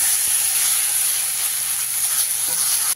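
Mustard paste with ginger and green chilli frying in hot oil for a Bengali fish curry, a steady, bright sizzle and hiss that holds at an even level throughout, close and without speech.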